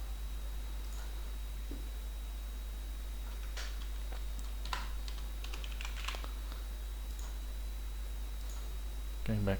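Brisk bursts of typing on a computer keyboard as values are entered, clustered clicks with short pauses, fairly close against a quiet room hum, ending in a slightly louder keystroke.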